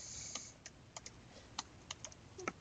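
Computer keyboard keys tapped in short irregular bursts while entering a terminal command on an Ubuntu machine, quiet close clicks with small pauses between keystrokes.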